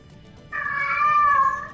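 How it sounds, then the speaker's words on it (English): A cat meows once in a long, clear, drawn-out call that starts about halfway in and holds steady to the end, close and fairly loud in a quiet room. "And the cat is here"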